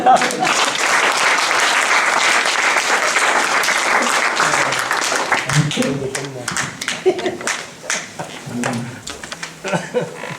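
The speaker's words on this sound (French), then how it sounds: "Acclamons le Seigneur." Church congregation applauding during a Sunday service, a dense, loud wash of clapping that thins after about five seconds into scattered claps, with a voice speaking over the fading applause.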